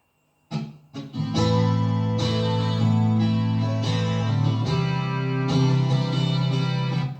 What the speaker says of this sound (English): So you've got the pre-recorded guitar in the background,